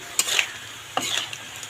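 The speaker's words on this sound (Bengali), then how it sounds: "এটা এখন আমি আর একটু ভাজবো চিংড়ি মাছটা প্রায় ভাজা হয়ে এসছে" Prawns frying in a pan with brief stirring scrapes and light sizzle, two short bursts of spatula noise over a quiet background.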